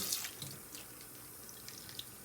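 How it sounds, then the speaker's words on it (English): Water poured onto a freshly repotted Sansevieria cylindrica in pumice-rich soil, giving a quiet, close trickle and splash with a few faint drips, and no voices. "now I'm going to water my Sansevieria that I just repotted"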